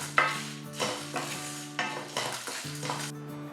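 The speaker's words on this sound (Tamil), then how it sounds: "ஸோ நல்லா கேர்ஃபுல்லாக வறுக்கணும்." Lentils dry-roasting in a pan while being stirred, giving a steady soft sizzle broken by repeated scraping strokes of a utensil against the pan at a relaxed, uneven rhythm, close and clear with no talk.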